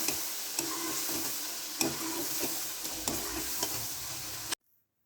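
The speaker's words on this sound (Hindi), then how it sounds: "अब हम इसमें 1 टेबलस्पून लाल मिर्च पाउडर शामिल कर देंगे, डाल देंगे। और 1/2 टेबलस्पून ब्लैक पेपर, और इसको हम अच्छे से फिर से फ्राई करेंगे।" Chicken frying in a karahi with red chili powder and black pepper, a steady dense sizzle with periodic stirring scrapes and clinks, close and loud, then cutting off abruptly.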